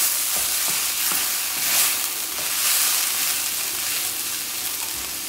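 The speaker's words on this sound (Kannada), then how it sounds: "ಇದನ್ನು ಒಂದು ಸತಿ ಕೈ ಆಡಿಸ್ಕೊಳ್ಬೇಕು" Carrot rice being stirred in a hot pan, a steady sizzling hiss with soft scraping strokes, close and continuous, no talk.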